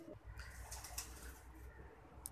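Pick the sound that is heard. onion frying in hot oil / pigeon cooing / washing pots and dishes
pigeon cooing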